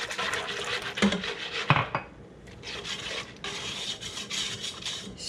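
A spoon scrapes and rubs around the sides of a pot of chocolate pudding to pull in cocoa powder stuck on the edges, with steady rasping strokes and a couple of sharper knocks against the pot, close and fairly loud.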